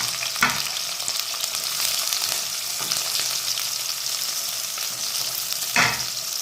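Onions sizzle and crackle in hot oil with mustard seeds in a pan, a constant dense frying hiss broken by a few sharp taps of a stirring spoon, close and without talk.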